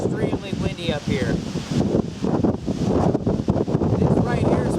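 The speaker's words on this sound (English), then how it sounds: "extremely windy up here." Strong wind batters the microphone high on a mountain at about 6,000 feet during a cold day hike, a loud, steady rumbling roar with gusty surges throughout and a voice talking at the start.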